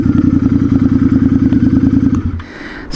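A custom Royal Enfield Interceptor 650 with changed suspension and wheels runs close by with a loud, low, evenly pulsing engine thrum, then the engine note drops away abruptly near the end, leaving quieter rattles.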